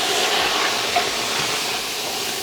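Steady, loud hissing sizzle as a splash of water hits a hot stir-fry pan of vegetables, filling the whole moment with a constant crackling spray of noise.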